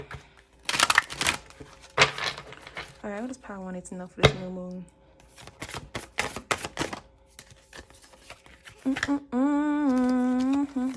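Tarot cards are shuffled in short, crisp riffling bursts during a new-moon card reading, mixed with a person speaking nearby.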